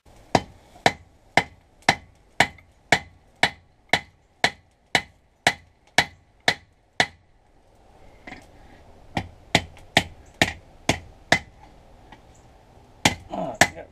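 Hammer blows on a hot forge weld for a tomahawk ring out in a steady rhythm of about sixteen sharp, loud strikes, then a pause with a low forge roar and a second, looser run of lighter hits.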